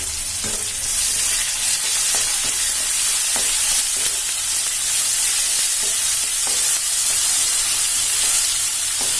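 Finely chopped onion, green chillies and curry leaves frying in oil, a loud continuous hissing sizzle lasting the whole stretch, with faint occasional stirring taps and no speech.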